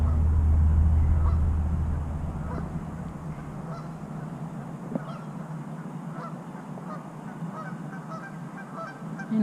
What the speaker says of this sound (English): And I hear a whole bunch honking.